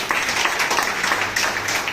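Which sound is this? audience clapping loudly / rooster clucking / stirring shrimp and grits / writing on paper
audience clapping loudly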